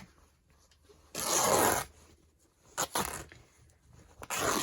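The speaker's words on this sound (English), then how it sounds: "strip off the edge of this large piece of calico. And I could have used a piece that I already had torn, but I really wanted to tear it to size" A large piece of calico fabric is torn to size in three sharp ripping bursts, the first long and loud and the later two shorter, with quiet pauses between.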